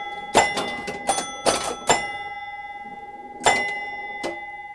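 Bells on a Williams Honey pinball machine ring out in quick clusters of bright, resonant dings, separated by short pauses over a faint electronic hum. No voices are heard.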